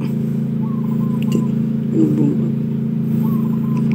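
Heavy equipment engine drones steadily and loudly as the boom is raised with a hydraulic fault, a constant low hum with a faint whine and people talking over it.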